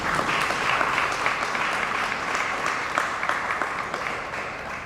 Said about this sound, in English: So yeah, you can clap for that.